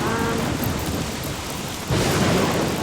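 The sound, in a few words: thunderstorm with lightning and rain in Don't Starve Shipwrecked video game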